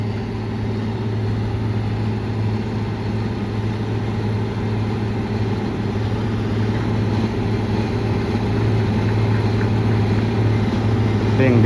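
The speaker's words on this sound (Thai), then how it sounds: "รถน้ำคันนี้เป็น WT-18 ขีดนะครับ" A WT-18 water truck working at a road construction site where cement is spread, mixed and compacted, its heavy engine giving off a loud, steady, continuous rumble that holds even and close for the whole stretch.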